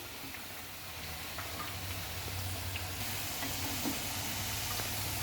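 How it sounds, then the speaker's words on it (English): Potato French fries deep-frying in very hot oil, a steady dense sizzle and bubbling that holds evenly throughout with a low rumbling undertone and a few faint clinks. "So the oil has to be very hot, and fry it till crispy brown."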